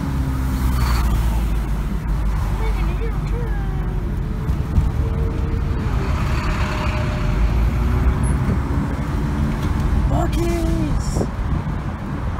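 Cars passing on a town road in Baytown, a steady wash of traffic and engine rumble running throughout, with people talking over it.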